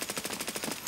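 Rapid automatic fire from an AKM rifle in the video game Escape From Tarkov, about ten evenly spaced loud shots in a quick, steady burst lasting under a second.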